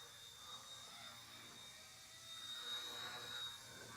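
An RC ERA C138 Pro stunt helicopter flies outdoors, its steady high-pitched rotor whine holding level and swelling slightly louder toward the end.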